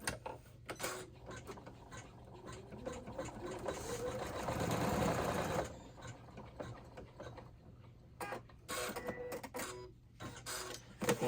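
An embroidery machine stitches the tack-down step on an in-the-hoop wallet, a steady rapid mechanical chatter that swells and then breaks into intermittent clicks and pauses.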